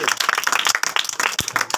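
A congregation at a church service claps in loud, dense applause that fills the whole moment, with no speech over it.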